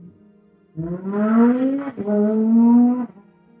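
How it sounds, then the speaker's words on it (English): A car engine revs up in two long surges, rising in pitch, with a brief dip between them; close and fairly loud, no talking. "Thank you for that, car."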